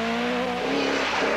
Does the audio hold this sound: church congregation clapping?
no